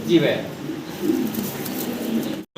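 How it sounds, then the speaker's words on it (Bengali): A pair of large exhibition pigeons coo close by, several soft throaty coos in a row under some nearby talk, ending in a brief dropout. "আমরা একজোড়া এক্সিবিশন কবুতর দেখতে পারতেছি ভাইয়ের কাছে"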